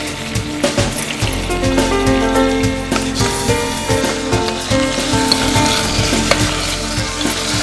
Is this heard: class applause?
no